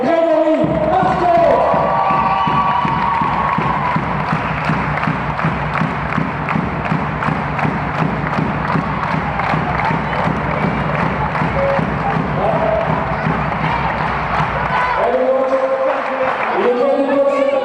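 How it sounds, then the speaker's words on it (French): An audience applauds and cheers in a crowded hall after the Montée de l'Elan Chalossais match, a loud, sustained wash of clapping and crowd noise that fades out near the end. "je vous demande d'applaudir Grégory Marco"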